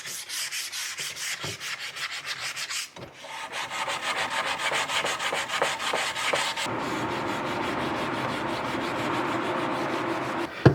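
Fine-grit sandpaper rubs in quick repeated strokes over a surface being smoothed and polished, close and moderately loud, the rhythm shifting into steadier continuous scrubbing partway through.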